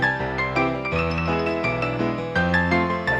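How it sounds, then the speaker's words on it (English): A home keyboard organ set to a piano voice plays lively, saloon-style piano chords and melody, steady and fairly loud throughout with no talking. "you're going to hear more of a piano player playing than anything"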